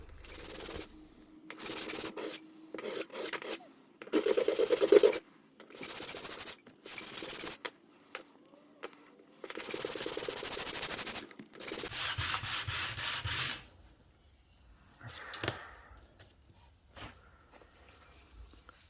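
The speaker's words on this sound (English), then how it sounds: "I'm going to do that with some hand sanding." Repeated bursts of rasping hand sanding on a lock pick handle, strokes of varying length with short pauses between them, close up and without talking.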